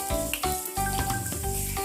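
Steady sizzling of pork on a hot tabletop grill pan, with clinks and scraping of utensils against the pan, close and moderately quiet.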